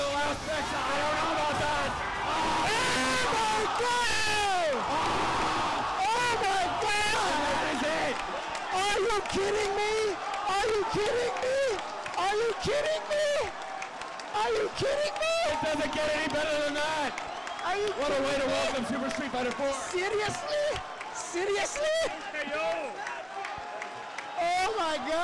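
Crowd at a fighting game esports tournament erupting in loud, sustained cheering and shouting after a dramatic Double KO in Street Fighter between Umehara and Justin, dense and continuous with applause mixed in.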